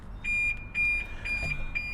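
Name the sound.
BMW car alarm going off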